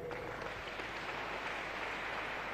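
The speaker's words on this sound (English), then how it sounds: "Clap for them." An audience at a public talk or televised program gives a short burst of faint, dense clapping.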